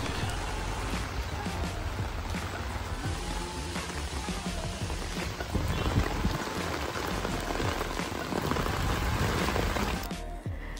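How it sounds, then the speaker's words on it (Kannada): Heavy rain drumming on a moving bus, a dense steady patter with scattered louder drops and vehicle rumble beneath, no speech heard. "ನಂತೂರು ರೀಚ್ ಆಗ್ತಿದ್ದಾಗೆ ಜೋರು ಮಳೆ ಸ್ಟಾರ್ಟ್ ಆಯಿತು"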